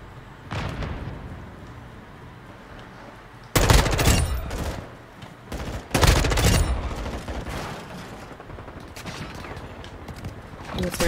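Bursts of gunfire in Call of Duty Modern Warfare 2, with a few sharp loud volleys and quieter scattered shots between them, while a player talks throughout.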